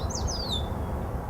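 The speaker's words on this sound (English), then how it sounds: "Do the birds come to see why I take pictures? They sing their ageless songs." Several birds chirp and sing in short rising and falling trills, bright and fairly near, over a steady low background hum outdoors.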